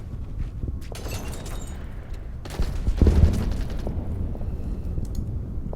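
Artillery and rifle fire in the wargame Order of Battle: Pacific, set on Okinawa: a few booming shots, the loudest about midway, each trailing into a rumbling tail over low background noise.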